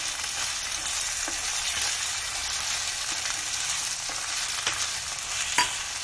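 Peas sizzle in a hot frying pan, giving a steady close crackle broken by light scrapes and taps of stirring, with no voices.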